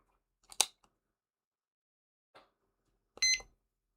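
A timer being set during a crochet livestream: a couple of sharp button clicks, then a short, bright electronic beep near the end, close and fairly loud, with no talking.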